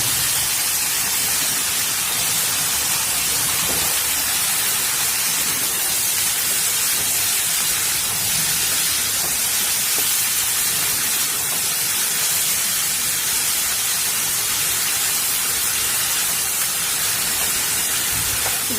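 Broad beans hitting a frying pan of softened onions, sizzling as a steady, loud, dense hiss that runs unbroken from start to finish with no talking.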